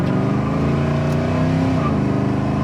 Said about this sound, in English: Second gear scratch.